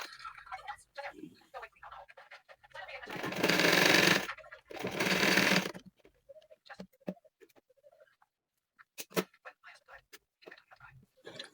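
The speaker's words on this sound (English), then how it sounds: "So you gently push it under the machine and sew." A sewing machine stitches the fabric of a beret in two loud bursts of a few seconds each, surrounded by quieter handling noises and brief pauses.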